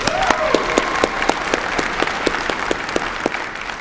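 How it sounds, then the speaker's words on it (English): Audience applause at an Army ROTC commissioning ceremony for newly commissioned lieutenants, a steady crowd of clapping with distinct individual claps spiking at a regular beat, moderately loud and reverberant with no talk over it. "please join me in a round of applause to our newly commissioned lieutenants"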